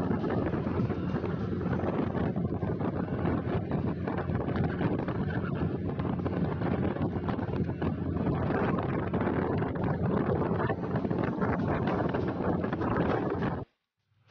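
A motorboat engine roars steadily while crossing the sea from Qeshm to Hormuz Island, under strong wind buffeting the microphone, loud and continuous until it cuts off abruptly at the end.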